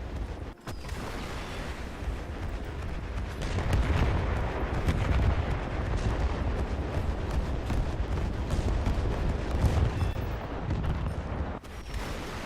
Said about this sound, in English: It's also a very big explosion on the Douglas.